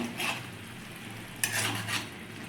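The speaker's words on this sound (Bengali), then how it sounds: "গরম মশলাটাকে একটু মিক্স করে নেবো" Garam masala being stirred into a sizzling prawn kaliya in a pan, with a steady frying hiss, repeated scraping strokes of a spoon and one sharper clink partway through.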